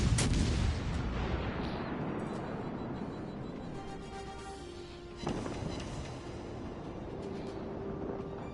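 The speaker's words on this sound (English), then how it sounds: "Next salvo, I'm going to have to switch to high explosive, not the armor penetration" Heavy battleship gun salvo in the naval combat game World of Warships Legends, a loud booming blast at the start that rolls into a long decaying rumble, with a second softer report midway and faint electronic tones lingering underneath.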